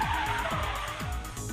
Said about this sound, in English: They can lose their grip on wet roads and cause the rear end of the vehicle to swing around out of control